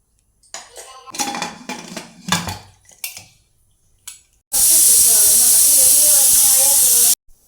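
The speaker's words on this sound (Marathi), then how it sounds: "याच्यात तीन शिट्ट्या करून घ्यायच्या आहेत" A pressure cooker cooking dal for Pandharpur bazaar amti lets out a loud, sustained hissing whistle of steam lasting about three seconds, after some close clattering of steel utensils.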